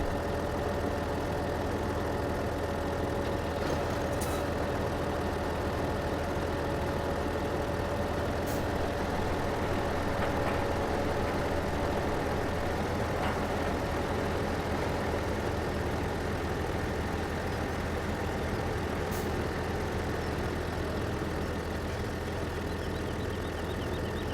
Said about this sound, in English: Tractor right in the middle of the field.